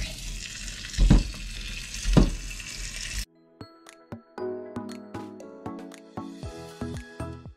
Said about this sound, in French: maintenant je vais laisser la viande dorer un petit peu